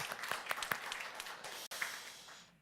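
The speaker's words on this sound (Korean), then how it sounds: "우리 박수 한번 해줄까요" A church congregation at a Sunday worship service applauds, a burst of clapping that rises and then fades out over a couple of seconds, heard from across the room.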